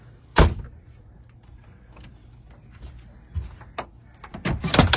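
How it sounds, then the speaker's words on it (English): A door of a 1994 Skamper pop-up camper swings shut with a sharp thunk, followed by softer rattles and a few more knocks as the camper is closed up, heard close by. "And then you have to close the other door."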